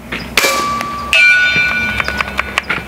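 An air rifle pellet strikes a steel gong target, giving a sharp metallic clang with a ringing tone; a second, stronger ring follows, then fainter clicks and taps.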